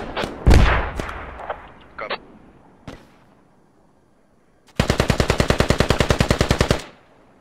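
Gunfire in the military shooter game Squad: a few scattered single shots and a short burst early on, a pause, then a long rapid automatic volley of evenly spaced cracks, loud and close.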